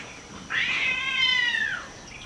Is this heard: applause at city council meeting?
no